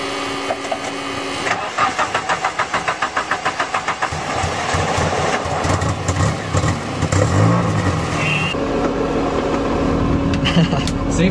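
A car engine, likely a worn Toyota Corolla with a rough transmission, starts and revs near the microphone on a test drive, rising and falling through several bursts with rattling mechanical noise and people talking over it.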